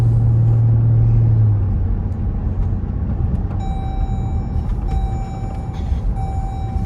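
A Chevrolet Corvette C8 driving, a heavy low engine rumble and road noise from inside the cabin, loud and steady, with a chime tone sounding intermittently partway through.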